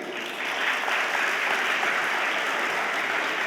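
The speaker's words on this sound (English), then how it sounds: "clap for yourself." An audience claps for itself in a hall, steady dense applause that swells after a brief softer start and holds evenly at moderate volume.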